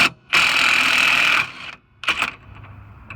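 Battery-powered tool with a 32 mm socket backing out a nut during rear wheel bearing replacement on a 2000–05 Honda Civic, one loud sustained whirring burst of about a second, then short spurts and a fainter tail.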